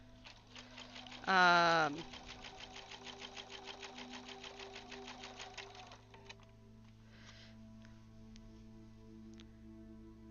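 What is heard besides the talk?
sewing machine stitching with a walking foot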